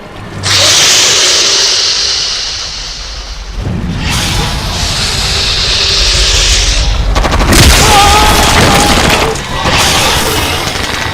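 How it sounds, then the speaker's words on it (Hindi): Heavy gunfire and booming blasts fill the scene in a long, loud, sustained barrage with sharp bursts and rumbling explosions, and no speech is heard. "गोलियां चलाओ।"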